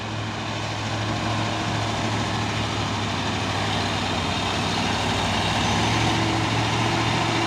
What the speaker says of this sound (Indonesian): ada 3 unit dump truck Fuso ini